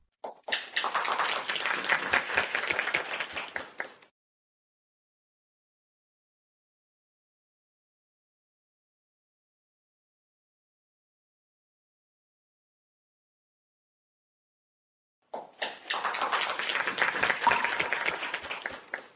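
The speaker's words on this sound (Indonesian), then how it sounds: "Mari kita berikan tepuk tangan." Wedding guests applaud the bride as she comes onto the stage: a burst of clapping for a few seconds, a long silence, then a second burst of clapping.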